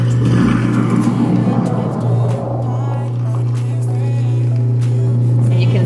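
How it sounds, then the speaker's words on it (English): A kitchen garbage disposal grinds and roars steadily with a cleaner tablet inside and a low flow of water running, a loud continuous motor drone with a strong low hum, close up. "I'm gonna put my disposal cleaner tablet right in there and turn the disposal on"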